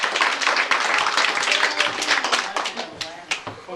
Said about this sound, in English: let's give Brianne a monstrous round of applause.